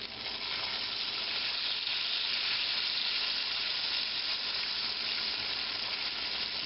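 Bacon sizzles in a hot pan while being cooked for a 1712 collops-and-eggs breakfast, a dense, continuous crackling hiss that stays close and loud throughout with no talking.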